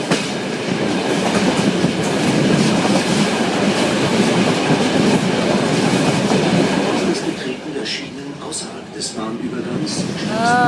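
Riding aboard a train on the Myrdal railway line in Norway, steady loud rumbling and clattering of wheels on track fill the car, easing slightly near the end as a brief squeal and faint voices emerge.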